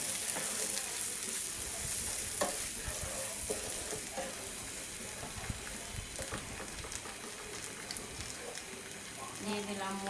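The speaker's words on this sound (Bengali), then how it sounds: "রসুন গরম করে নিলাম" Garlic heats in hot oil in a pan, giving a steady, moderate sizzle and crackle with a few small stirring knocks while a person talks over it.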